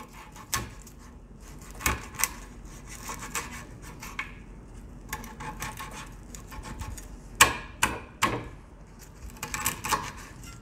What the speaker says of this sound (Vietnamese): Để mình chặt nhỏ nhỏ ra cho dễ ăn nha.